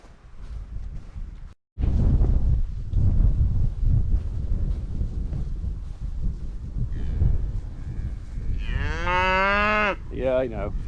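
Cattle on a farm near a water tank, with steady wind rumble and outdoor noise throughout, then a few loud, drawn-out moos close by toward the end.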